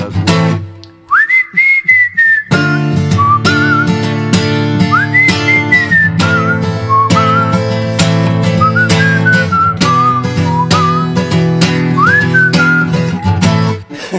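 A person whistles a melody over a guitar accompaniment, the whistled line rising and falling in several phrases across the clip, clear and close, with no talking.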